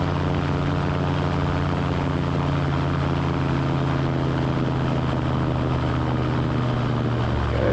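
A small floatplane drones loudly and continuously as it comes in for a water landing, its engine and propeller steady and close throughout.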